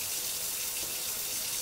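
Kitchen tap water runs steadily into a sink, a loud, even rush with no talk over it.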